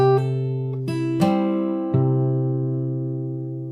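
Slow run through a riff on guitar: four separate plucked and slapped hits spaced unevenly, each chord left ringing and sustaining close and clear, with no voices over it.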